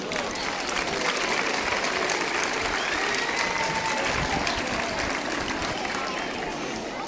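Spectators at a popular marching parade during the Santo António festivities applaud an orchestra and marching group, broad continuous clapping from a crowd outdoors with faint voices mixed in.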